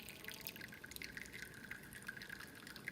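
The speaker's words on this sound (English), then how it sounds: "let the shot drain through" Espresso shot trickling from a La Pavoni lever machine after pre-infusion, a faint steady drip and thin stream of liquid running continuously at low level with light splashy ticks throughout.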